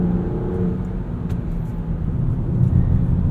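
Land Rover Defender 130 with the P400 mild hybrid engine driving, a smooth steady engine hum with road noise heard from inside the cabin, swelling slightly toward the end.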